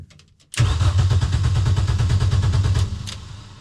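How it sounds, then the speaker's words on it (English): A Mini R50 race car engine cranks loudly and rhythmically for a few seconds, a fast chugging starter sound that never settles into a smooth idle, with the fuel pump not running due to faulty wiring. "it's hard to start the car if the pump is not running"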